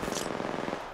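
Rapid automatic gunfire in the Apex Legends battle royale on the Olympus map, a dense rattling burst of many quick shots, loud and close, running almost the whole second before tapering off.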